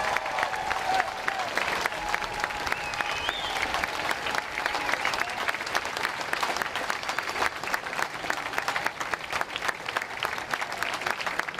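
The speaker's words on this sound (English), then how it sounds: "Please give a round of applause." Audience applause follows the introduction of Priscilla Presley and Christopher Amoruso at an Elvis tribute show event, a steady dense clapping that stays moderately loud and even for about eleven seconds, with crowd murmur underneath and no clear talk.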